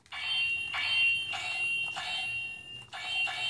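Power Rangers Legacy Saba toy sword blade producing electronic sound effects: bright, shrill synthetic bursts repeating in short pulses, four or so clear blasts, close and fairly loud.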